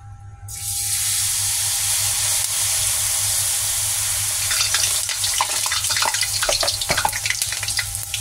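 Vegetable okoy fritters with shrimp hit hot oil, and a loud, steady frying sizzle starts abruptly, then grows busier with crackling pops toward the end, with no talking.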